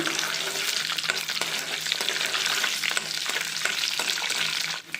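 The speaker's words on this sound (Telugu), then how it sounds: "ఇలా వెల్లుల్లిపాయ ఫ్రై అయ్యేటప్పుడే ఒక స్పూన్ ఆవాలి ఒక హాఫ్ టీ స్పూన్ జీలకర్ర ఒక రెండు ఎండుమిర్చి తుంపు వేసుకోవాలండి" Garlic, mustard seeds, cumin and broken dried chillies fry in hot oil for a sesame-flour curry while being stirred. A loud, steady close-up sizzle runs throughout, with soft stirring scrapes and no talk.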